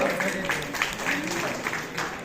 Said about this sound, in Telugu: చప్పట్లతో వారిని స్టేట్ వచ్చేటట్టు